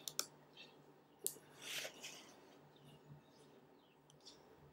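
A computer mouse clicks faintly against a quiet room hum: two quick clicks at the start, another single click a moment later, then only soft scattered ticks.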